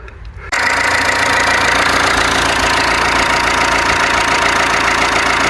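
A car engine cranks and fires half a second in after its battery is refitted and coolant topped up, then settles into a loud, steady idle close to the microphone, with no voices.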